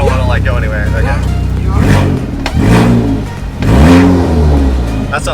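Race-prepared VW Jetta GLI engine revved in neutral while parked, with rising and falling bursts of revs up close; people talk over it.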